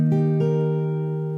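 A barre chord in the A shape is strummed on an acoustic guitar, with two quick strokes close together followed by a long sustain as the strings ring out and slowly fade. No one speaks.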